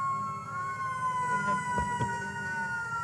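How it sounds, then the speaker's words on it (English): A hook-and-ladder fire engine's siren wails at a St. Patrick's Day parade, a steady high tone sounding over street noise, moderately loud, with brief knocks and voices in the crowd. "I think the size of the sirens kind of match the size of this hook and ladder"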